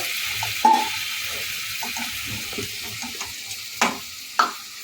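Spinach paste frying in a pan for a saag tarka, stirred with a utensil: scattered scraping knocks and clacks over a low sizzle, close and fairly loud, no talk.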